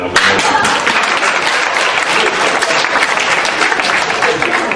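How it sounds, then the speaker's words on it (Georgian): Audience applause at a concert held at a culture house in Mtskheta, a dense, steady wash of many hands clapping at full volume throughout, with no pause. "ზოგადად ტაშია ხოლმე"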